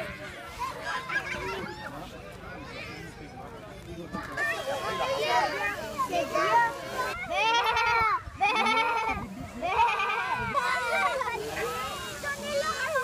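A flock of about 300 ewes at a shearing event in Montélimar bleats repeatedly and loudly, with overlapping calls building in the second half, while children and other people chatter nearby.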